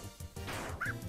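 A cartoonish dog yelps and whimpers in Undertale, several short close cries in quick succession over game sound.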